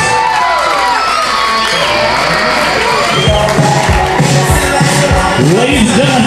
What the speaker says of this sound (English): Once again, an applause for bridesmaid Katie Gale, escorted by groomsman Sasha Horowitz.